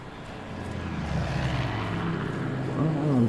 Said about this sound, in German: Ah, ein Flugzeug.